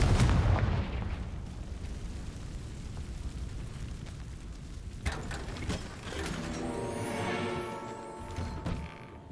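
A Confringo blasting spell cast in Hogwarts Legacy on PS5, a heavy explosive boom that rumbles and fades, followed by a second blast and a ringing magical shimmer.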